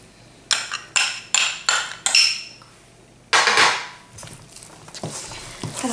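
Focaccia dough worked with a spoon in a bowl: a run of five sharp, close scraping strokes with clinks against the bowl, then a longer heavier scrape and softer rustling stirs, no talking.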